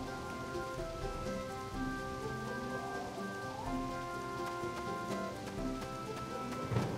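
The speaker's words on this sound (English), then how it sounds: "And it's raining, so no one's gonna be outside" Steady rain in Harvest Moon: Animal Parade patters on surfaces in a soft, continuous hiss, with a faint low rumble and gentle tones in the background.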